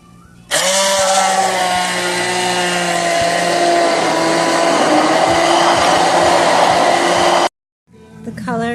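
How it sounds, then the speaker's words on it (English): A blender loudly purees strawberries and beet quarters, a steady high-pitched motor whine with churning that runs about seven seconds, then cuts off abruptly, followed by a brief rattle. "next we're going to puree about a cup of strawberries and maybe 1 or 2 of these beet quarters."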